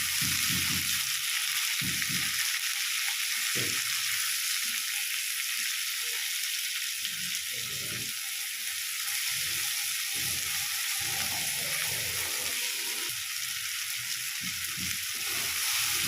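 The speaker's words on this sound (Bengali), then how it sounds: "টমেটোটাকেও আমি 1 থেকে 2 মিনিট এভাবে নাড়াচাড়া করে নেব" Chopped tomatoes frying with fried onions in a pan for a lote fish curry, a constant hissing sizzle with intermittent scraping and stirring noises over it.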